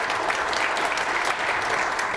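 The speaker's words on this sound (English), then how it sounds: "We got to give Bill Steele another round of applause." An audience gives dense, sustained applause after a documentary presentation, steady and fairly close throughout with no break.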